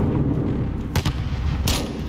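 Sharp explosive bursts in the Call of Duty Modern Warfare campaign during a night ambush under flares, two distinct loud cracks about a second apart over a rumbling battlefield bed.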